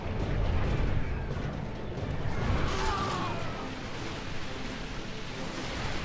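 Return artillery fire during a siege battle in Third Age Total War, a dense rumbling barrage of low booms and crashes blending into a continuous roar, loud and distant-sounding, with no voices.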